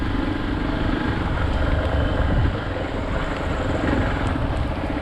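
A Hero XPulse 200 4V off-road motorcycle rides through jungle, its engine a steady, close rumble with wind buffeting the microphone throughout.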